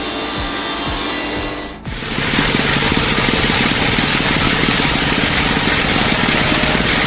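A wood plank splitter machine with an alloy saw blade cuts into wood, a dense, loud rasping saw grind that starts about two seconds in and runs steadily over a motor hum.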